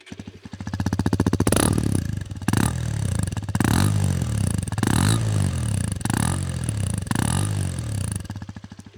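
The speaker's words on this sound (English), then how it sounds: "I feel you should listen to this engine" A Hero Xpulse 210 dual-sport motorcycle engine with a dual-sport exhaust revs repeatedly up close, a series of sharp throttle bursts with a throaty, popping exhaust note between them.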